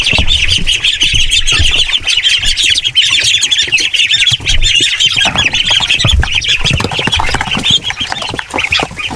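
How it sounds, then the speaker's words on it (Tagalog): Small Peking ducklings on a farm peep and call loudly while being fed, a dense, continuous chorus of overlapping high chirps with light pecking and scuffling beneath. No one speaks. "Subukan natin pakainin yung ating mga maliliit na Peking duck"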